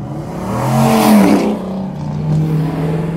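A Shelby GT350's engine revs hard past 5,000 RPM, its rising howl loud and close from inside the car, easing off then holding a steady high-pitched drone.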